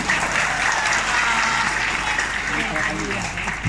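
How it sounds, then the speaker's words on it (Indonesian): Audience at an Islamic sermon in Karang Kobong claps together in sustained, dense applause that stays steady and loud throughout, with voices mixed into the crowd. "Tepuk tangan buat Bapak ini"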